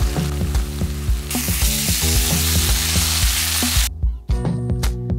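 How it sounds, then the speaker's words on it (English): Sambal paste fries in about 50 ml of oil, giving a close, continuous sizzle and hiss over a steady tonal hum. The sizzle cuts off sharply near the end, leaving the hum alone. "Fry the sambal paste with 50 ml of oil until the oil separates."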